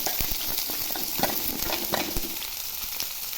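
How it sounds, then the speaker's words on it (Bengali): Chopped onion with cumin seeds frying in hot oil for a ridge gourd curry, a steady dense sizzle with occasional clacks of a stirring spoon, close and fairly loud throughout. "তেল দিয়ে দেবো গরম হয়ে গেছে জিরা দিয়ে দিলাম পেঁয়াজ কুচি দিয়ে দেবো"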